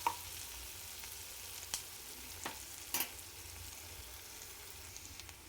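Ginger garlic paste fries quietly in a pan for a beetroot curry, a faint steady sizzle with a few soft scrapes or stirring knocks, no talking.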